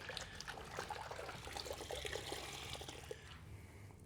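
A wash mitt scrubs against a grit guard in a bucket of rinseless wash solution, giving steady close sloshing, swishing water and trickles with faint scraping, quieter toward the end.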